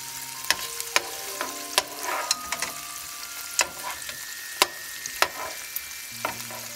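Shrimp frying in a pan for shrimp scampi, a steady close sizzle broken by sharp clicks and taps as the pieces are flipped, with no voices.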